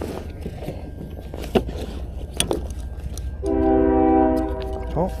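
A train horn sounds from a distance across the water during a paddle boarding outing, one sustained, chord-like blast lasting about a second, heard over quiet outdoor background.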